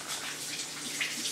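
Tap water runs steadily over pork meat in a brief, continuous splashing rinse close to the listener.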